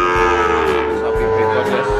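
Calves at the Paingan Winong cattle market in Pati, lowing in loud, drawn-out moos close by, with overlapping calls and faint crowd noise behind.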